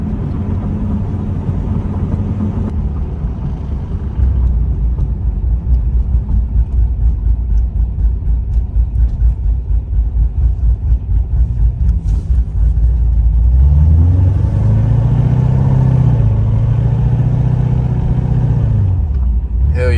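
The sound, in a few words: cammed Chevrolet Corvette C7 engine idle chop while driving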